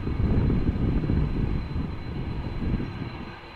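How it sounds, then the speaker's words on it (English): A Delta Air Lines Airbus A330-300 jet at Amsterdam Schiphol airport gives a broad, rumbling engine roar that swells early and then slowly fades, with a thin high whine running through it. "Time for yet another Delta Airlines A330."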